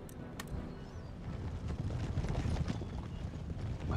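Galloping line cavalry hooves in Empire: Total War, a busy clatter of many horses charging into mercenary troops, building in intensity over the few seconds with faint mechanical battle noise beneath and no speech.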